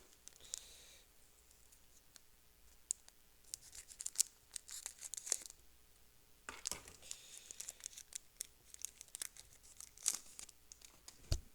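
Scissors snip and crinkle through the foil wrapper of a Commander Legends trading card pack, a quiet run of irregular crackles, clicks and tearing sounds up close.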